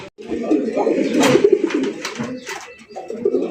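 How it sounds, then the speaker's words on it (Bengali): Male pigeon cooing inside a cage, close, with several rolling, throaty coos in a row. A person is talking in the background. "খাঁচার ভিতরে যেমন ডাকে পুরা পাগল পাগল একটা নর"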